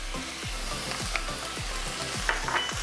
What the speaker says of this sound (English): Give it a good toss again.